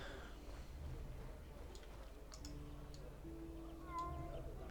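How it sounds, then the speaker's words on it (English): A cat meows in the fantasy role-playing game Drakensang: The Dark Eye, a short, fairly faint call over steady game ambience and low music, with a few light ticking clicks around it. "Let's go and talk to this cat."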